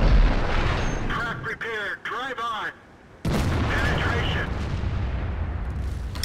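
Tank cannons boom in a World of Tanks battle, a couple of heavy blasts with rumbling tails, loud and close, while someone talks between and over the shots.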